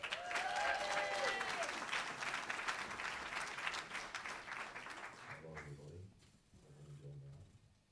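Loud audience applause and cheering fill a college music show in Carlisle after a band's set, with a dense clapping wash that slowly thins toward the end as a voice speaks briefly.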